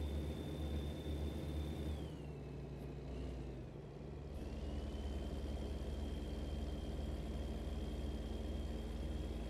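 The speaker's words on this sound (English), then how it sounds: "listen to that engine" Heavy truck engine in American Truck Simulator, a loud steady low drone that holds throughout, dips briefly, then climbs back with a rising high whine as it revs up, with no talking.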